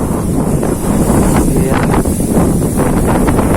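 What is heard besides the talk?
wind blowing under a bridge while fishing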